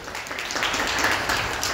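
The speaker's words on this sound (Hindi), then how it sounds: "ताली बजाए" A crowd at a Christian wedding ceremony applauds steadily and close by, a dense, even wash of clapping lasting a couple of seconds.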